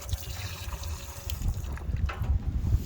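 Water trickles into a pot of peaches with salt, sugar and fennel at a campsite, a steady close pour over a breezy outdoor rumble.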